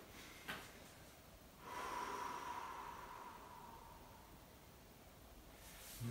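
A single long breathy exhale during an abdominal workout, soft and close, rising suddenly and trailing off over a couple of seconds, with a faint sniff-like puff just before it.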